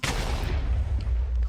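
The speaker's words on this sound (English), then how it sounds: "And there are explosions." Loud booming blasts erupt in a video game fight against skeletons wielding bows and axes, a sharp initial bang followed by a rumbling, crackling tail with low thuds rolling through.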